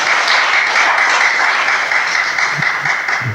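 A church congregation applauds during an Indonesian sermon, a dense, loud wash of clapping that holds steady for several seconds before easing slightly at the end.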